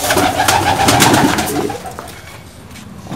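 Domestic pigeons kept for pigeon flying coo loudly and close by in repeated throaty bursts for about two seconds, then fade to quieter background calls.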